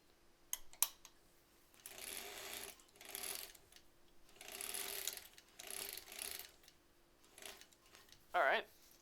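A sewing machine stitches fabric face masks in bursts, several runs of whirring separated by pauses, with handling noise at the start and a brief voice near the end.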